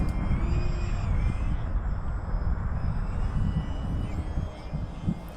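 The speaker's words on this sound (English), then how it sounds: "A lot of fun flying this plane" A Durafly Tundra TPX EPP radio-controlled plane flies outdoors, its electric motor giving a steady, moderately loud whine over broadband wind-like rush for the whole stretch.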